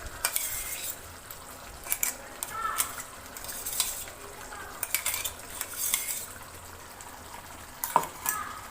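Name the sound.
stirring cashew chicken curry in a pan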